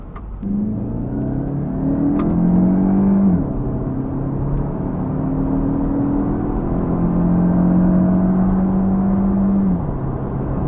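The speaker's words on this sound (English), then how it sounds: "So that was a full throttle pull up to 60 with the top up." A Chrysler PT Cruiser convertible with its top up accelerates hard at full throttle to 60 mph, heard from inside as a steady engine drone that climbs in pitch through several gear changes, with road rumble and no talking.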